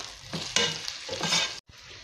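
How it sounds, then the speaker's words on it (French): Onions fry in hot oil while being stirred in a pan, a soft steady sizzle with scraping stir strokes, close and fairly quiet, ending in a brief gap. "là, on a les oignons qui sont en train de cuire dans l'huile"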